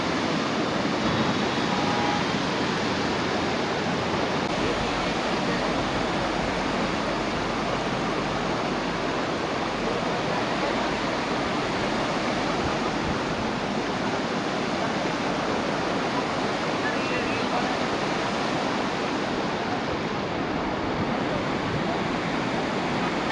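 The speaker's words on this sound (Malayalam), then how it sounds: "ഈ ഒരു വെള്ളച്ചാട്ടം, ഈ ഒരു അരുവി." A mountain waterfall and white-water stream near the Zoji La pass in Ladakh roar in a constant, loud, broadband rush that stays unbroken and alone for the whole stretch.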